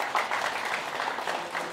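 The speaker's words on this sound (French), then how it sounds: "Applaudissez l'UDAF." Audience applause at a CCAS community event, a dense steady patter of many hands clapping throughout, moderately loud and close, with no clear voices over it.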